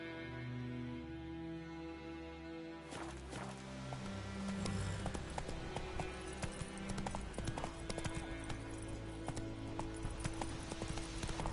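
Horse Roach breaks into a gallop in a video game, quick rhythmic hoofbeats starting about three seconds in and pounding on loudly and close.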